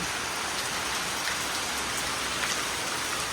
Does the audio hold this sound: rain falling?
yes